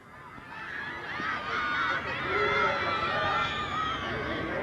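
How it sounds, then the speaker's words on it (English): At the end of a high school football game, the South Bay Eagles crowd cheers on their way to a 13-0 win over Valencia Park. The loud, dense roar swells and holds, with shrill shouts mixed in. "We'll let you hear it from the crowd"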